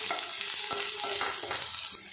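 Chopped garlic and onion frying in hot oil in a pan, a steady close sizzle broken by the scrape and clatter of a spoon stirring every half second or so.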